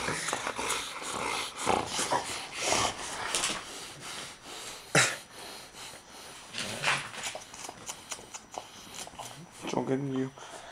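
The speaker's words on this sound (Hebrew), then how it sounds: "הוא הכלב הכי גדול בעולם." A very large dog snorts, huffs and growls in short bursts up close, mixed with rubbing and movement noises while people talk around it.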